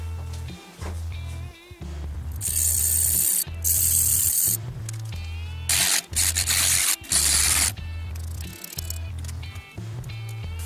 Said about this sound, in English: Carefully going to file it.